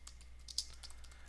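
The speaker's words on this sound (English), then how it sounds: "I'll type in my name and 123 Main Street" Quick, light keystrokes on a computer keyboard entering a name and street address into a web form, close and faint over a low steady hum.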